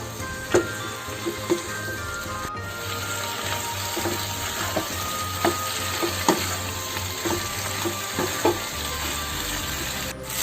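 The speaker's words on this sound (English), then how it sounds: "So let me give a nice stir." Boiled macaroni is stirred through pumpkin sauce in a pan over a medium gas flame, a steady close sizzle broken by repeated soft scrapes and taps of the spoon.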